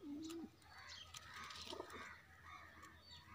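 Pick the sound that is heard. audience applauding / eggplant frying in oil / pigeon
pigeon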